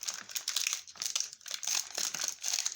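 A hard-to-open plastic package being worked open, giving continuous close, bright crinkling and crackling in uneven bursts with no talking.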